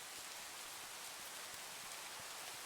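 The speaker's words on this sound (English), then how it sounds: "we are in the rain right now" Steady synthetic rainfall in a Minecraft modpack, ATM Gravitas 2, a soft even hiss of drops with no breaks, faint and continuous.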